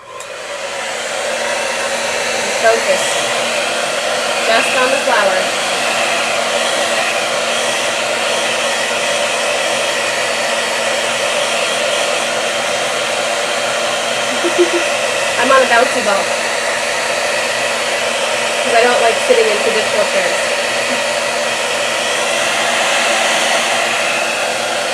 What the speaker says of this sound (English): turn on the blow dryer